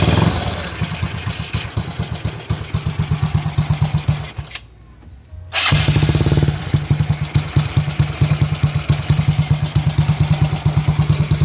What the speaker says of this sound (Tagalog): kaya maririnig nyo na talaga yung tunog ng chicken pipe natin